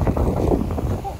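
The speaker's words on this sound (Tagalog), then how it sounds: "Medyo malakas na yung hangin." Strong winter wind gusting outdoors in Korea, a steady rough roar buffeting the microphone throughout, with someone talking over it.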